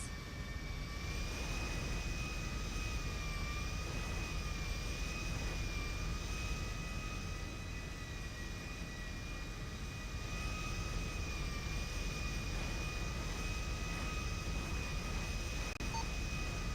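An airliner in a GTA roleplay game roars as its engine thrust reversers run on landing: a loud, steady jet drone with a whining tone held throughout.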